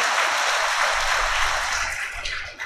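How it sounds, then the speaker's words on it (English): A church congregation at a Sunday English Mass gives a big round of applause, a dense, even wash of clapping that holds steady before tapering off slightly at the end. "let us give them a big round of applause"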